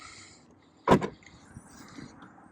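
The rear hatch of a 2019 Chevrolet Bolt opens with one short, fairly loud mechanical clunk and a brief rattle, followed by faint room noise.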